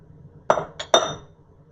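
A utensil stirring pasta in a pan for a lobster dish with fennel, cherry tomatoes and Pernod, three quick, close metallic clinks against the pan over quiet kitchen background.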